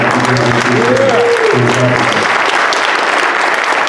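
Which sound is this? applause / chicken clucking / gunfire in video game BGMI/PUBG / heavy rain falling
applause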